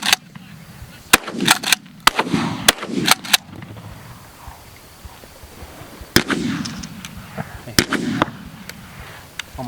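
Shotguns fire at doves during an opening-day hunt on public land. About a dozen sharp, loud blasts come in quick clusters with pauses between them, echoing outdoors.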